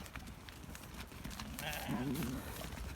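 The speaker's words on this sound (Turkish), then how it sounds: "Maşallah çok şirin koyunlar" Sheep on a farm bleat once in a short, clear call partway through, over steady barn background noise and rustling.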